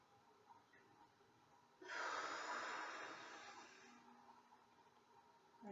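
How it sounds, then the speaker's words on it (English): A person exhales audibly during slow belly breathing, one long, close airy breath of about two seconds that fades gradually, with quiet room noise before and after. "you will hear me exhale"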